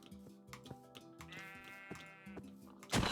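Sheep bleating in Minecraft, several wavering bleats in a row at moderate level, followed by a brief louder noisy burst at the end.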